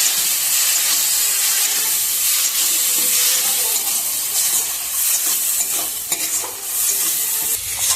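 Pointed gourd seed paste fries in a pan while being stirred, giving a continuous bright sizzling hiss, close and fairly loud, with soft scraping from the stirring and no voices.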